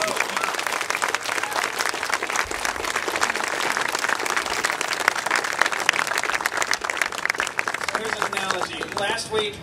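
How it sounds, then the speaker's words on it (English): An audience at a Centerstage ribbon cutting ceremony gives a steady round of applause, many hands clapping together in a continuous, lively patter that stays fairly even throughout. "Could you join me, please, in a round of applause to show our appreciation to all of those folks?"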